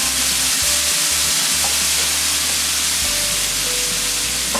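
Chopped tomato frying in hot oil with masala in a pan for egg bhurji, a steady close sizzle with stirring scrapes throughout, no talk.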